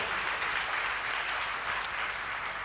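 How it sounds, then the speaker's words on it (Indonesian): A church congregation claps together in a sustained, uniform wave of applause, loud and close throughout with no speech over it. "Beri tepuk tangan bagi dia."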